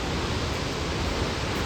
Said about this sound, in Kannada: ಜೋಗ ಜಲಪಾತದ ಅದರ್ ಸೈಡ್